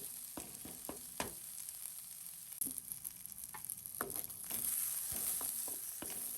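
Onion, beans and carrot sautéing in a pan, a soft steady sizzle broken by scattered clicks and scrapes of a spoon stirring, growing a little brighter toward the end; no talking.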